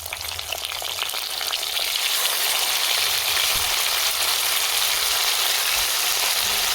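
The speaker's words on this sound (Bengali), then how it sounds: "কাঁচা লঙ্কা চেরা দিয়ে দিচ্ছি এখন পাঁচ ফোড়ন কালো জিরে আর কাঁচা লঙ্কা প্রায় ভাজা হয়ে যাচ্ছে" Split green chillies with panch phoron and black cumin frying in oil, a loud, dense, steady sizzle with a constant crackle that runs on without pause and without talk.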